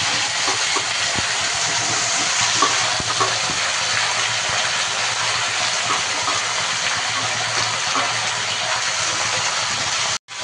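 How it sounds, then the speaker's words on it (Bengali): Mixed vegetables hit a hot pan already holding fenugreek, fennel, nigella and cumin seeds, producing a loud, steady frying hiss close by for the whole stretch, ending abruptly. "এর মধ্যে এবার সবজিগুলি দিয়ে দেবে।"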